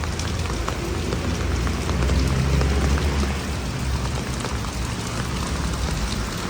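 Steady rain falls near a dredged waterway close to Naiya Road by C5 in San Miguel, a dense, even hiss of drops on surfaces with a low rumbling wash underneath and no voices.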